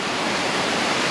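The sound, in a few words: waterfall rushing water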